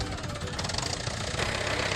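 A tractor engine idles close by with a steady, rough, knocking diesel rumble and no pauses.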